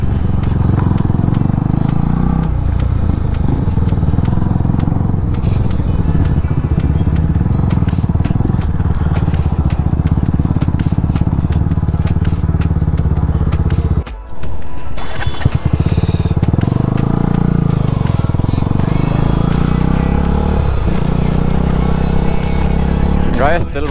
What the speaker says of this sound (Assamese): কৌশিকৰ বাইকত তেল নাই বোলে তেল ভৰাই লয়